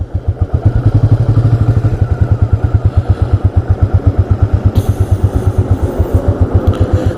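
A 1985 Yamaha Virago motorcycle engine idles on a cold day with a steady, loud, close-up low pulsing beat, running alone throughout.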